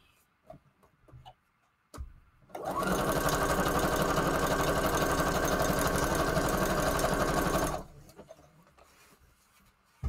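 Sewing machine stitching through layered Christmas paper for a craft, starting up close and running in one steady, loud mechanical whir for about five seconds before stopping, with faint handling sounds around it.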